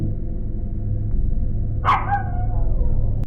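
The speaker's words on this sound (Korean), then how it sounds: "겁먹은 강아지는 짖기만 합니다." A frightened puppy gives a single short, sharp bark over a steady low background hum, with nothing else standing out.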